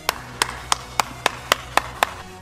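A steady run of eight sharp hand claps, evenly spaced about a third of a second apart, over a faint low hum with no talking.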